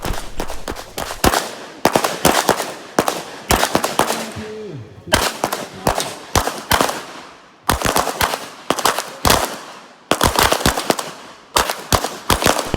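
Handgun fire at an outdoor shooting range during a combat pistol drill, with sharp shots in quick bursts and short pauses between them, loud and close, plus a few faint whistling tones in the middle.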